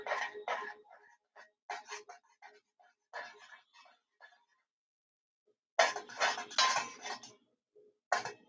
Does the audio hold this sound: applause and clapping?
no